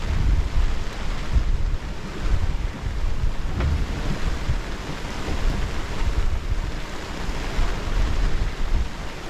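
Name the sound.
wind on a sailing boat at sea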